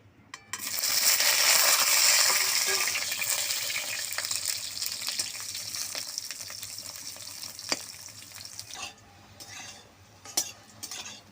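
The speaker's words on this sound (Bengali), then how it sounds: "এবার বেগুনটা ভেজে নিচ্ছি" Eggplant fries in hot oil for a Bengali shukto, a loud hissing sizzle at first that gradually settles, with occasional clinks and scrapes of a utensil near the end.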